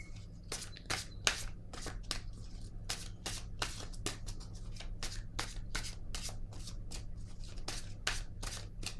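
Oracle cards are shuffled by hand before a message is drawn, a quick rhythmic series of crisp riffles and slides repeating steadily up close over a low background hum.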